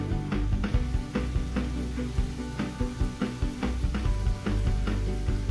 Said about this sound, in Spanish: vamos a seguir acitronando la cebolla a fuego medio